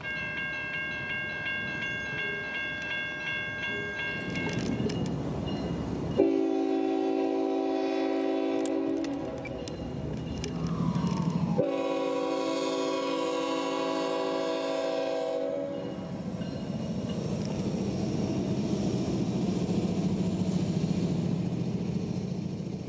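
A 30-car freight train pulls out of a track in Central Florida, its horn sounding several long, loud blasts between stretches of low rolling rumble and squeal.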